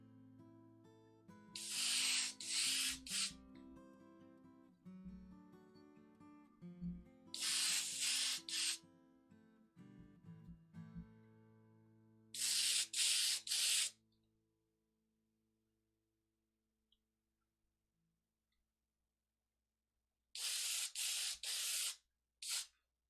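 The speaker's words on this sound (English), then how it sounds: "Airbrush ASMR." Airbrush spraying paint in short, close hissing bursts, about four separate sprays separated by quiet gaps, with faint tonal background sound under the first bursts.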